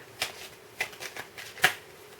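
Oracle cards being shuffled by hand, a few soft crisp riffling bursts spaced apart, close and quiet with no talking.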